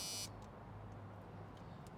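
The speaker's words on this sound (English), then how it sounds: "It's got the original buzzer." The original loud electronic warning buzzer in a 1987 Chevrolet R-10 C10 pickup truck sounds briefly at the start, then cuts off, leaving a steady low engine-like hum inside the cab.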